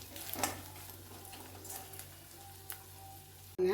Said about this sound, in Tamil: போட்டு நல்லா பெரட்டி விட்டு இதோட பச்சை போகிற வரைக்கும் ஒரு பிரட்டி பெரட்டிட்டு